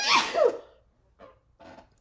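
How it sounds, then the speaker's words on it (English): A single sharp sneeze bursts out close by, followed by a couple of faint breathy sounds as it trails off in a quiet room. "I'm gonna sneeze."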